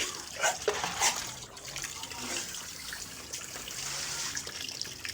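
Water trickles and splashes into a trough as it is poured for pigs to drink, a steady wet hiss with a few louder splashes early on, close by and fairly faint.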